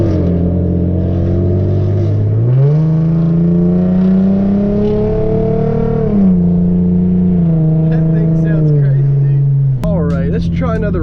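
A Hyundai Genesis Coupe 3.8 accelerates hard from a standstill. The loud engine note climbs through several gears with distinct pitch drops at each shift, heard close from inside the car, and a voice speaks briefly near the end.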